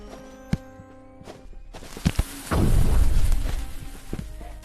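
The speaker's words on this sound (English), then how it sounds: "You gotta shoot that sticky grenade at someone." Sticky grenade exploding in the video game Animal Company, a brief pop followed by a loud, rumbling boom that swells for a second and then fades.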